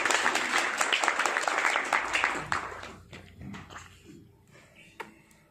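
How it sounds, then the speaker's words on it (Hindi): A small group of people clap for a newborn baby, strongest at the start and thinning out, with chatter and a few voices mixed in as the clapping fades toward a scattered finish. "भाई तालियां बजा दो इसके नन्हे मुन्ने बच्चे के लिए।"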